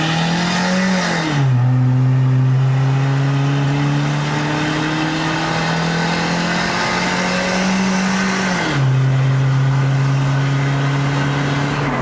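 Perodua Bezza 1.3L with a bolt-on turbo accelerating at full throttle, its engine climbing steadily in pitch through two gears with a drop at each shift, loud and close inside the cabin, with no talking.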